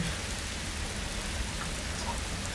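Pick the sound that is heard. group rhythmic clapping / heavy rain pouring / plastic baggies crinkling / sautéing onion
heavy rain pouring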